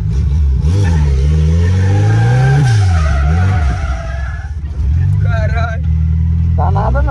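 A drifting car skids with long tire squeal, its engine revving hard and loud throughout, while people talk over the noise.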